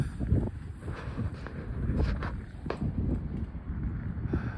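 Strong wind blows outdoors through trees in a steady, rough rush, with gusty buffeting against the microphone throughout.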